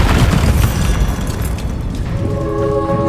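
A booming Bombarda blast spell from Hogwarts Legacy, loud and heavy at the start, then a lingering rumble fading into a steady tonal hum.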